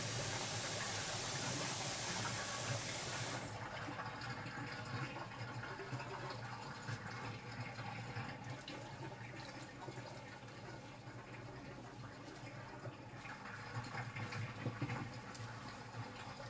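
Water runs steadily while dreadlocks are washed, a close continuous hiss and splash that starts brighter and then settles into a softer, even flow with light patter.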